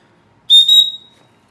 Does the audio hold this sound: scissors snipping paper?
no